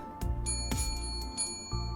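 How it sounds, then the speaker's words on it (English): A little countertop bell at a butcher counter in the game Frostbite rings several times, bright metallic dings with ringing tails, close and clear over a quiet low hum. "You ring the little bell on the countertop."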